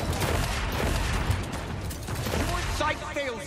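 Gunfire in the game Paladins, a dense, continuous burst of shots and impacts over the full stretch, loud and busy, with mechanical clatter mixed in.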